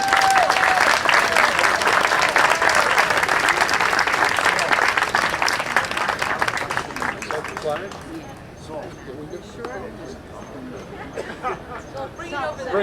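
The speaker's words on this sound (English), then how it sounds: "Let's give him a round of applause." A meeting audience gives Herb a warm round of applause, loud dense clapping for about seven seconds that fades into murmuring chatter and voices.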